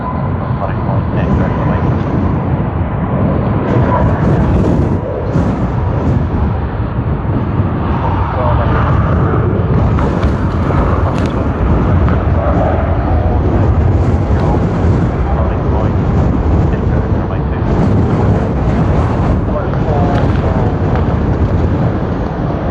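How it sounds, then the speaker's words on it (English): China Eastern Airbus A350-900 jet engines on the takeoff roll at Sydney Airport, a loud, steady roar that stays constant and dense throughout. "Sydney to Shanghai on China Eastern's A350-900 has begun its takeoff roll."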